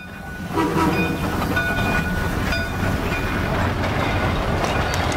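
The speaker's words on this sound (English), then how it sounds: "we catch the number 8 Shay hauling the excursion train as it heads past the waterfalls" An HO scale model Shay steam locomotive rumbles past hauling an excursion train, with a continuous heavy chugging roar and occasional brief whistle tones riding above it.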